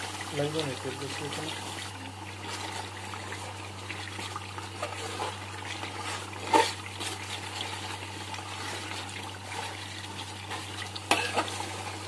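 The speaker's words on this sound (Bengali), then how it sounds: "চিকেনটা কষানো প্রায় হয়ে গেল" Chicken for biryani being sautéed in a pan gives a steady sizzle and frying hiss with occasional stirring scrapes and clanks, under a constant low hum and some talk.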